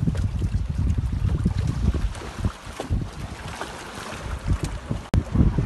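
A Libertist 703 foiling sailboat glides through light wind of about five knots, with steady broadband water rush and wind buffeting on the microphone close by, and no voices.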